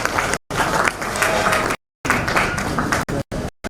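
Enthusiastic conference audience at Afritech 5.0 clapping for a keynote speaker, a close, full burst of many hands interrupted by sudden brief silences, with faint voices mixed in.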